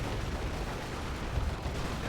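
A plasma cannon firing in Dawn of War 2 Retribution, muffled booming blasts within a dense roar of battle noise, heavy and continuous across the moment.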